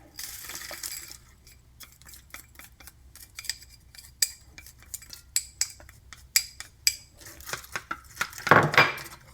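A utensil clinks quickly against a bowl while beating an egg mixture with black pepper and green onion. The sharp taps come in an uneven rhythm and grow faster and louder toward the end, with no talking.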